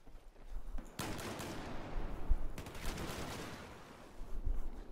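Rapid bursts of SCAR-H rifle fire in a Battlefield 4 hardcore team deathmatch, loud and close, with a sharp volley near the first second and another near two and a half seconds, then a dense rattling tail and later shots.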